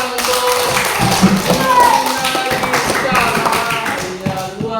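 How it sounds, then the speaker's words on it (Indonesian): Classroom applause fills the room as a dense, continuous patter of many hands, with voices mixed in throughout. "tepuk tangan untuk"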